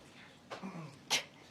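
A single short sneeze bursts out sharply near the end of a press briefing, preceded by a brief breathy vocal sound in a quiet room.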